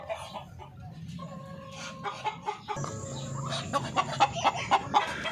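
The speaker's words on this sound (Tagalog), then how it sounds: "itong rooster na basila na to" A Basila rooster clucks close by on a poultry farm, its short, throaty calls repeating in a quick rhythm that grows louder toward the end, with faint background farm noise.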